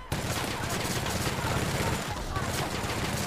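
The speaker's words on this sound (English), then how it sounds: "I'm delivering bullets, man!" Rapid, sustained gunfire in the video game The Outer Worlds, a dense unbroken stream of shots at constant loudness, with a voice faintly present underneath.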